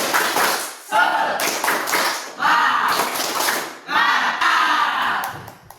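A classroom group performs the rhythmic 'tepuk semangat' spirit clap, with loud, close bursts of patterned hand-clapping in several phrases, mixed with voices chanting along between the claps.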